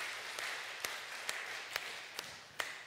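Sparse, soft claps ring out at uneven intervals in a church service, about six in a few seconds, faint and roomy rather than a full burst of applause.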